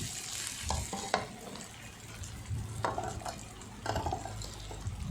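Fermented fish mixed with egg frying in a pan, a soft steady sizzle with scraping stir strokes at intervals, close and moderately loud, no talking.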